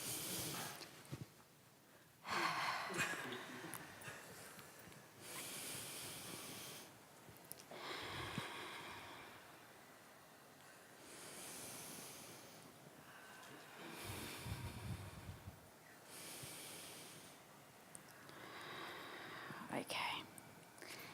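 A group doing a timed breathing exercise in a stress-relief laughter session, with repeated audible breaths and whispery exhalations rising and falling in waves, fairly faint and roomy, with faint voices in the background.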